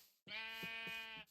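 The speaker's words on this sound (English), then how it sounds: "Maybe we move the sheep first." A Minecraft sheep gives a single clear, sustained bleat, close and alone against quiet surroundings.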